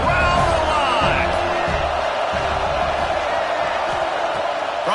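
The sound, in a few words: football stadium crowd cheering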